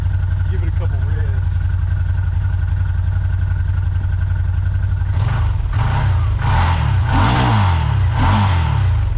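A CFMOTO ZForce 950 UTV engine with an aftermarket GGB exhaust idles with a deep, rumbly exhaust, then revs up sharply several times in quick succession, close and loud.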